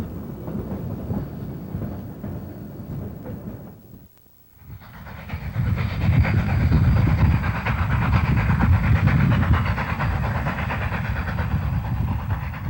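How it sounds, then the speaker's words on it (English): A train crosses the high Cascade Trestle in the rain on the Cumbres line, a rumbling roar with rhythmic clatter that dips briefly, then swells back louder and steadier. "it is raining as the train crosses the highest bridge on the line, Cascade Trestle"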